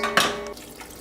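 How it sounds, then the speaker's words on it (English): Half a cup of water hitting a hot frying pan while fish curry cooks, a quick clatter and splash followed by a short fading hiss, close and alone. "put a half a cup of water just to facilitate that"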